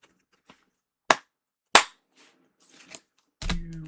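Sharp claps of hands slammed together to knock trading cards out of plastic top loaders, a few separate loud smacks spaced irregularly, with faint handling rustle between them and a final heavier thud.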